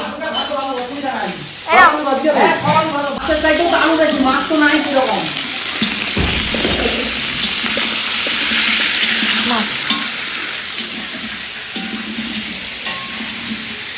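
Food frying and being stirred in a home kitchen pan, with sizzling, spatula scrapes and clatter early on, then a steady hiss and a running-water rush, while people talk nearby.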